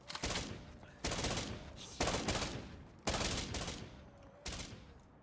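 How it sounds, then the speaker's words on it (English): Gunfire from an AK rifle in Infection Free Zone, five separate bursts about a second apart, each a sharp crack trailing into a decaying echo, fairly faint as if from some distance. "I heard another AK going off somewhere"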